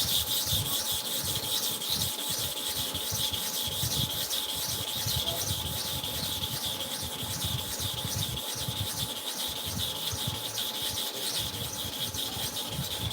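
A hair clipper blade sharpened to and fro with light pressure, producing a continuous close rhythmic rubbing and rasping of regular strokes, with no voices.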